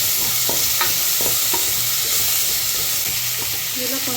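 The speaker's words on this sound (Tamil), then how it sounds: "இதில் 1/2 தக்காளி எடுத்து வதக்கிப்போம்." Half a tomato sautés in a pan for a mutton curry, a continuous bright sizzle with rhythmic spatula scrapes and taps against the pan, close and steady with no talking.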